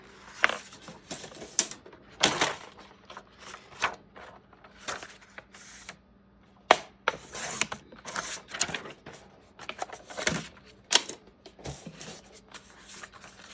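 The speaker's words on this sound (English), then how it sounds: "what I'm going to do here right now is trim this paper right there" Paper being trimmed for a journal flipout, giving a series of short, crisp cutting and rustling bursts in an irregular rhythm, close up and alone without talk.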